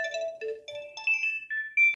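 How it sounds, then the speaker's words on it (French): A phone ringtone plays a short melodic tune of bright electronic tones, repeating several note phrases at close range with no talking. "c'était le téléphone qui sonnait"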